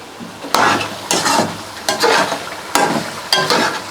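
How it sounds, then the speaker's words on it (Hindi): Spices and green chillies frying in a karahi for chicken karahi, with loud, close sizzling and repeated rhythmic stirring scrapes of a spoon against the pan, about six strokes in four seconds, no talk. "मसालों को हम 1 मिनट तक भुनेंगे। उसके बाद हम इसमें सब्ज़ मिर्च ऐड करेंगे।"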